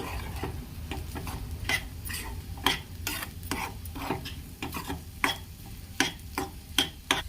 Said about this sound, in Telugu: ఇప్పుడు గరం మసాలా వేసుకుందాం. ఒక 2 మినిట్స్ వెయిట్ చేద్దామండి. ఫ్రై చేద్దామండి కొంచెం